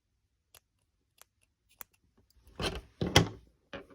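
Scissors snip through crochet yarn with two quick, close cuts, each with a short rasp, preceded by a few faint ticks and followed by a soft handling sound.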